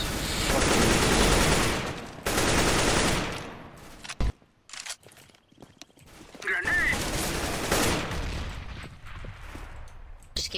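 Heavy automatic gunfire in a Counter-Strike: Global Offensive competitive match comes in loud, dense sustained bursts, then turns to scattered single shots and clatter, with voices talking over the action.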